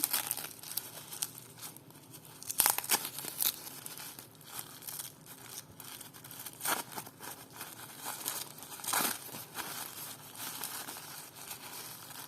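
A plastic parcel bag crinkles and crackles up close, with sharp tearing bursts scattered among quieter rustling handling; no talking.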